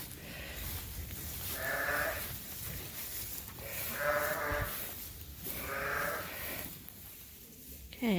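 Sheep bleat in lambing pens on a farm, three drawn-out calls spaced a couple of seconds apart over low barn background noise.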